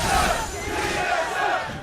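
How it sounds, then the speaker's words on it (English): A packed arena crowd at a League of Legends NA LCS esports match chants together, a loud sustained roar of massed voices with a held, sing-song tone. "Trying to figure out the chant the crowd is doing"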